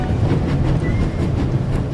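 A moving train in The Raven Remastered rumbles loud and steady, its wheels giving a rhythmic clickety-clack over a deep continuous drone.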